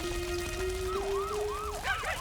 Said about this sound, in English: The sirens began to wail.